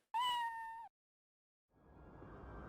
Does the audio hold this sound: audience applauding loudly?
no